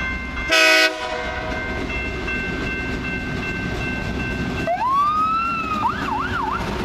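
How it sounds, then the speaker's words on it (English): Loram rail grinder LMIX 411 rolls past near mile marker 360.49, with a loud, steady rumble from the train. A short burst of noise comes early on. Later a wailing siren rises and sweeps up and down over the passing train. "The siren sounded too. That was Rail Grinder 411."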